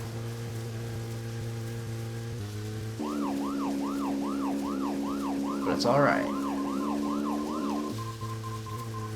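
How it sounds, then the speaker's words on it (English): Rising-and-falling siren alert from the video game Deadly Premonition, a repeating wail of about a dozen quick cycles over a steady engine drone, with a person talking briefly over it. "that alert sound, oh, this is not good"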